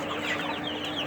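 A flock of three-day-old chicks at a meat chicken farm keeps up a constant chorus of high peeping and cheeping, close and steady with no voices.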